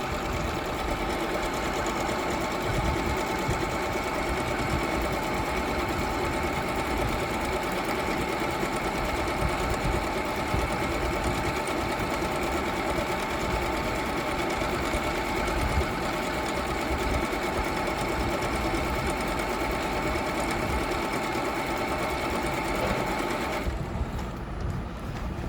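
A Jaguar CD2204W sewing machine runs steadily, stitching a decorative pattern with a rapid, even mechanical chatter up close, continuing without pause until it stops near the end.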